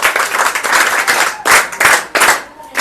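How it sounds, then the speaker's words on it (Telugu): A class of students applauding together, loud close clapping in bursts that swell and ease, with brief pauses between rounds. "అందరూ ఒకసారి గట్టిగా చప్పట్లు కొట్టండి"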